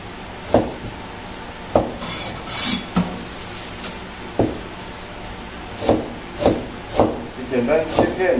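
Fresh ginger is peeled and sliced on a cutting board in a boat's galley, giving a series of separate knife taps and scraping strokes with short pauses between them, fairly close, while a voice talks at times.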